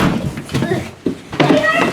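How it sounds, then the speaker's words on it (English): A door thuds shut partway through, with a second solid knock soon after, while a person talks nearby. "let me shut the door"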